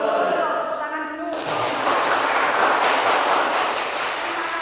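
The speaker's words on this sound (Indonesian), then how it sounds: "Tepuk tangan dulu." A school class of students claps together in a classroom, bursting into loud, dense, steady applause after a teacher's voice, sustained for a few seconds without a break.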